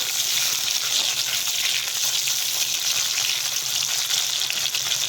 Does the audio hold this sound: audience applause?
no